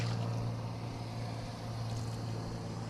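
Fireman-style hose spraying a steady, forceful stream of water to rinse a car wheel and tire: a continuous rushing hiss with a low rumble beneath, close and even throughout.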